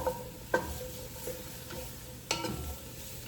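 Mushrooms sizzling in fat in a pan, with two or three sharp stirring scrapes breaking through a steady low fry, close and fairly quiet.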